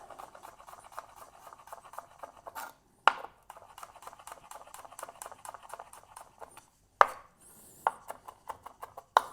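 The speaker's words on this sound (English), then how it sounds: "chop up the garlic finally" Rapid, steady knife taps on a cutting board while chopping garlic, fine and quick, with a couple of brief pauses and louder knocks in between.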